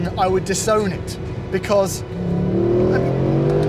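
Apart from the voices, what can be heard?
Mercedes-Benz SLS AMG 6.2 litre V8 engine revving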